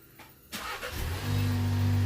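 A 2017 VW Passat starting remotely: a short quiet stretch, then the starter cranks, the engine catches and revs briefly before settling into a steady, close idle hum.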